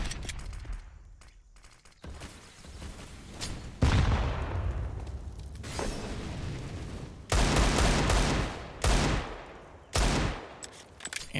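Deagle pistol shots in a competitive Counter-Strike match on the Ancient map ring out in several sharp bursts, some close and loud, others fainter, amid continuous gunfire and game ambience.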